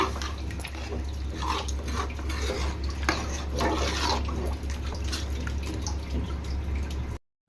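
Water, about one and a half glasses, splashes and trickles into a village-style mutton curry with tamarind leaves and colocasia in a pressure cooker, a steady close pour that stops abruptly near the end.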